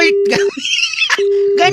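A steady phone dial tone starts and stops twice on a landline-style call, broken by a voice speaking between the tones.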